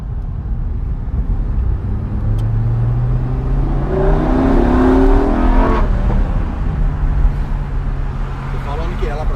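A Lamborghini Huracán STO V10 fitted with an Innotech exhaust revs from inside the car, a steady drone climbing into a strong throttle surge mid-clip before easing back, loud and continuous.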